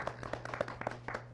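A small studio audience at a CNBLUE fan chat event claps briefly, with a handful of close, distinct hand claps in an uneven rhythm over a steady low hum.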